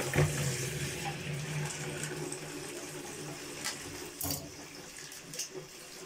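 Water running steadily into a washing machine drum while a fiber-filled quilt is being washed, a continuous close hiss and rush with a few brief knocks and splashes.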